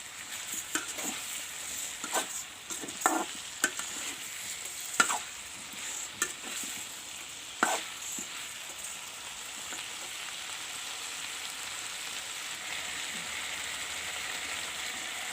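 Cauliflower and masala sizzle and fry in a pan, with a steady soft hiss and intermittent scraping clinks of stirring, close and moderately quiet.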